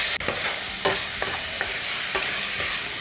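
Masala rice mixture is stirred in a pot over a constant loud sizzle, with repeated spoon scrapes landing every half second or so.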